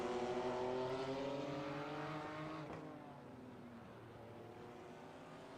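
BMW race cars run on track during a two-hour NASRA Prosper Engineering Endurance Series race. Their droning engines sweep down in pitch as they pass, starting loud and then fading to a steadier, more distant hum.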